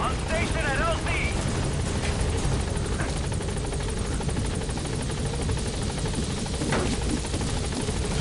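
Helicopter in the video game Metal Gear Solid V arriving at a landing zone, a steady rotor drone holding loud and continuous throughout, with speech over it.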